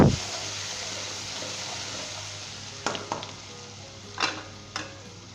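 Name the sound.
mutton frying with ginger garlic paste, being mixed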